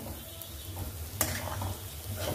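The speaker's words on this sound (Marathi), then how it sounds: "मिश्रण सतत ढवळत राहायचं आहे, असं परतत राहायचं आहे, नाहीतर हे जळू शकतं" A spoon steadily stirs a sizzling red chili thecha mixture in a hot pan, a continuous close frying hiss with soft scraping strokes and one sharper clack partway through.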